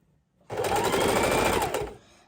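Sewing machine running in one short, steady burst of stitching as lace trim is sewn onto a junk journal cover, close and alone.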